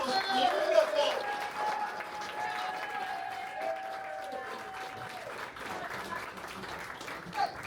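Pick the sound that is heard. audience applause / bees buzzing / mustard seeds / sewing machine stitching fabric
audience applause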